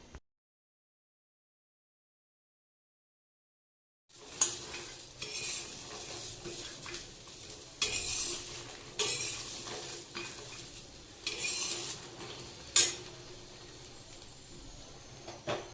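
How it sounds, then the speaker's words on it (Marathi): Peanuts dry roasting in a hot pan: after about four seconds of silence, steady close stirring scrapes and light rattling begin and repeat in bursts, with a faint hiss beneath and no talking. "कडे तापत ठेवले आणि शेंगदाणे पण टाकून घेते"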